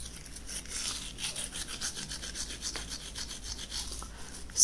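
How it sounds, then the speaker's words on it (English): Soft, close rubbing and gritty scratching come from a face being scrubbed with a homemade coffee and coarse sugar scrub, in quiet repeated strokes. "scrub my face."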